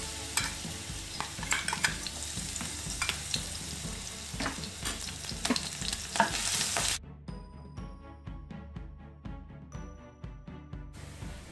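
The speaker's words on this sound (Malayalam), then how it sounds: "ഇനി നമുക്ക് ഇഞ്ചി, പച്ചമുളക്, വെളുത്തുള്ളി ചതച്ചെടുത്ത് കൊടുക്കാം." Crushed ginger, green chili and garlic frying in hot coconut oil for an egg masala: a continuous loud sizzle with stirring scrapes, then a sudden drop to a quieter crackle with rhythmic spoon strokes against the pan.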